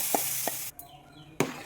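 Curry leaves drop into hot oil for a tempering and sizzle in the pan close up, with sharp spatters and a few clinking stirs over a hissing background.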